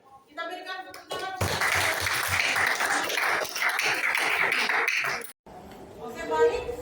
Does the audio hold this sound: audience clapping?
yes